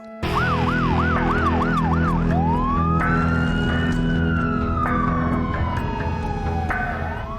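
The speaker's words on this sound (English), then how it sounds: "I mean sirens going, roads were shut down just to let us pass." A loud police siren wails continuously, alternating a rapid yelping warble with long rising and falling sweeps, close by with no voices.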